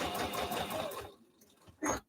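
A sewing machine stitches tiny quilt block pieces in a brief, fast, buzzing run, then stops; a short mechanical whirr or thump follows after a pause, and the whole sound is close and fairly quiet.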